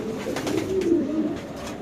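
Pigeons at a seller's stall give a close, clear low coo lasting about a second, with no other sound around it.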